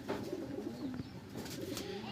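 A pair of pigeons, male and female, coo softly and repeatedly close by in a quiet setting, low murmuring calls with a faint background hum.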